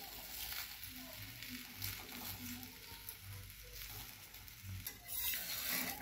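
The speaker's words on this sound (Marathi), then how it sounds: "तेल सोडूया, दुसरी पोळी आपण भाजायला। मी आता तेल सोडले।" Oil sizzles steadily under a flatbread (poli) frying in a pan, a continuous close crackle with faint stirring or scraping now and then and a brief louder burst near the end.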